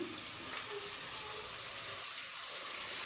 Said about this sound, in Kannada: ಅದಕ್ಕೆ ಎರಡು ಗ್ಲಾಸ್ ನೀರು ಹಾಕಿದ್ದೀನಿ